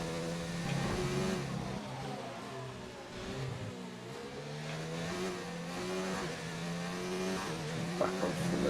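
Ferrari race car in a racing video game, engine howling loud and close with rising and falling revs through gear changes, joined by brief tire squeal in a dense, continuous roar.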